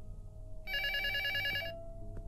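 A telephone rings once in the horror video game Luto, a single bright electronic ring lasting about a second over a low background hum, moderately faint, with no talk.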